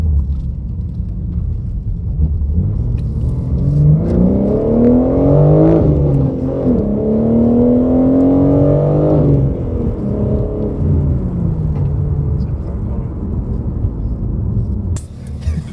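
A BMW G80 M3 fitted with an equal length mid-pipe exhaust and stock rear section, loud and close, rising through several rev sweeps to a peak and falling back to a deep, rumbling idle, with no talk over it.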